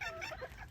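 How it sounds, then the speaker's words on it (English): A broody hen sitting on her eggs clucks softly in a few short, low murmurs against steady background noise. "she's on the eggs. She's being a good broody hen."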